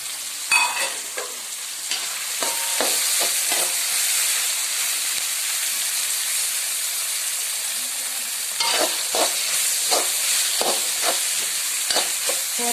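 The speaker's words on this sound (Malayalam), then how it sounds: "നമ്മുടെ സവോളയുടെ നിറം ചെറുതായിട്ടൊന്ന് മാറുമ്പോഴേക്കും അതിലേക്ക് ഇഞ്ചിയും വെളുത്തുള്ളി ചതച്ചത് ചേർക്കുക." Chopped onion sizzles loudly in a hot pan with crushed ginger and garlic, a steady close hiss broken by scraping stirs near the start and again toward the end.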